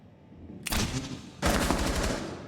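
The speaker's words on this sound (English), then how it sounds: "Trading bullets." Rapid automatic gunfire in Rainbow Six Siege, two bursts of sustained shooting, the second longer and denser, loud and close with no voices over it.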